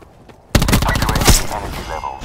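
Gunfire in Call of Duty Black Ops 4, a sudden loud burst of rapid automatic shots that starts sharply after a quiet moment and rattles on with a second heavy crack, close and dominant.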